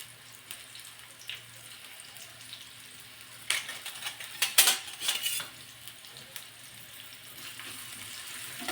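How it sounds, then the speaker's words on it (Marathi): Vertically sliced onion drops into hot oil, setting off a brief burst of crackling sizzle with a few clattering utensil sounds midway, then settling back to a low background hiss. "या तेलामध्ये एक उभा चिरलेला कांदा टाकत आहे"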